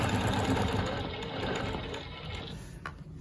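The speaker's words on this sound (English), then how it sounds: "And we're quilting down." A longarm quilting machine stitches along a ruler in a continuous fast mechanical whir with rapid needle chatter that eases slightly toward the end.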